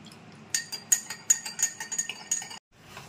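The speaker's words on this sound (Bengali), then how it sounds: "খাবার সোডা 1 গ্লাস জলে আমি ভালো করে গুলে রাখছি।" A spoon clinks repeatedly against a glass while baking soda is stirred into water, giving a quick run of close, bright taps that stops abruptly, followed by faint room noise.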